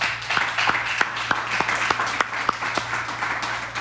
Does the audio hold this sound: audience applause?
yes